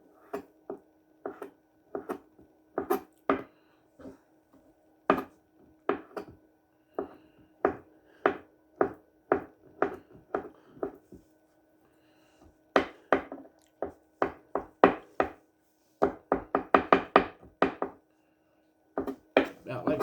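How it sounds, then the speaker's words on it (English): Knife chopping a peeled hard-boiled egg finely on a cutting board, a steady series of sharp, close taps in quick bursts with short pauses between runs. "I'm going to dice it up really fine. Teeny little pieces."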